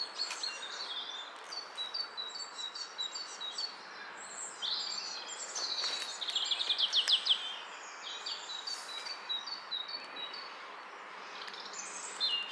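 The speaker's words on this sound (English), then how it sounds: "Listen to how many birds there." Many birds chirp and trill at once, a busy overlapping chorus of high calls, with one bursting into a rapid, louder run midway.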